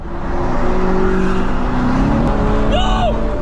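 An engine roars louder as a car accelerates hard, its pitch rising under a wash of road noise, with a brief voice-like squeal near the end.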